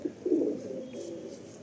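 Many pigeons gathered together at a pigeon seller's, giving soft, low cooing that swells and lingers continuously, fairly quiet and alone without talk.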